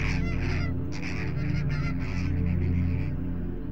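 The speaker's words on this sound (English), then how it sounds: "a small group of greater flamingos is bathing" Greater flamingos honk in a loud, goose-like chorus while bathing in a group on the Red Sea coast, with overlapping nasal calls repeating steadily close by.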